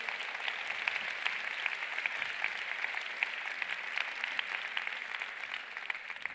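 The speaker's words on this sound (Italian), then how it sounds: "un applauso a tutti gli sponsor e i finanziatori" Audience at an award ceremony applauds the sponsors, a continuous wash of many hands clapping in a room, steady and even throughout.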